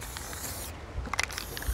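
SEM medium gray bumper coater sprays from an aerosol can held close in windy weather, a brief hiss joined by a few short bursts near the end.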